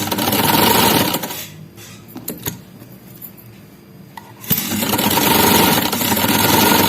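A sewing machine stitching the side pocket of a kameez, running in a loud continuous whir, pausing for a few seconds with small clicks and rattles, then running again.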